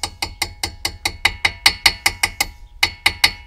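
A hammer taps a metal pin into a C7 Corvette brake caliper during a brake pad change, about seventeen sharp, evenly spaced metallic strikes, close and loud, with no talking.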